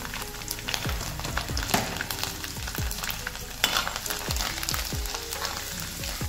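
Garlic and cumin seeds sizzle in four spoonfuls of hot oil in a pan, a lively crackling fry punctuated by sharp pops and the scrape of stirring.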